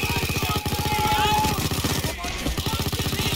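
A heist drill grinding away in Payday 2, a loud, fast rattling buzz with a steady pulsing rhythm, briefly dipping before resuming.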